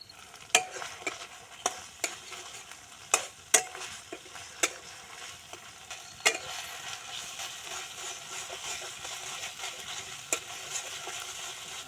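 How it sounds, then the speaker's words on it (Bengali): Spice paste fries with a little water in a pan for a fish curry, a continuous moist sizzle broken by sharp, irregular spatula knocks and scrapes against the metal, close and without talk. "অল্প অল্প জল দিয়ে দিব আমি এবার মশলাটা ভালো করে কষায় নিব"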